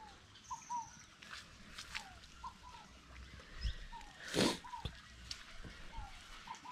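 Small birds chirping at a rural smallholding, short high calls repeating at intervals over a quiet outdoor background, with a few soft rustles and bumps.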